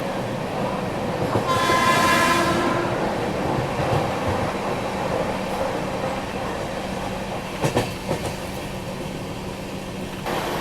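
A WAG9 locomotive overtakes during a high-speed Mumbai–Nagpur Duronto run: a loud horn blast early on over a steady rolling rumble, then sharp clacks of wheels over rail joints near the end.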